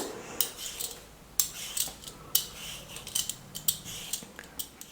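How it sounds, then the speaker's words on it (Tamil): Potatoes being peeled and cut by hand for a Tamil snack, with a run of sharp scraping and cutting strokes at an uneven pace, some louder and some softer, close to the mic and with no talk. "3 உருளைக்கிழங்கையும் மேலே வந்து தோல் சீவிட்டு சின்னதா கட் பண்ணி எடுத்துக்க போறேன்."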